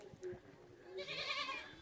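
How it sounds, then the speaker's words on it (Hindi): A goat bleats in a remote Himalayan village in Uttarakhand, two bleats with the second longer and louder, heard at moderate distance with faint background murmur. "ये आप देख सकते हैं बकरी है,"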